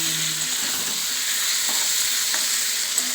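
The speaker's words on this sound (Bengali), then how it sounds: "এবার মাংসটা দিয়ে দিচ্ছি। মাংসটা দিয়ে দিলাম, এবার নাড়াচাড়া করবো।" Chicken meat frying in a pan for a Bengali curry, a steady close sizzle with soft scrapes of stirring throughout and no talking.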